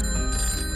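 A telephone rings with a steady, continuous bell tone, loud and close, filling the short moment without any talking.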